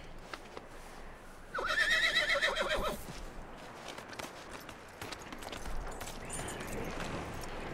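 A horse in the Red Dead Redemption 2 video game lets out one loud, close whinny that rises and then falls, followed by quieter hoof clops and faint ambient game sounds.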